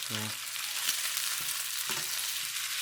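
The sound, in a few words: pork pieces browning in a pan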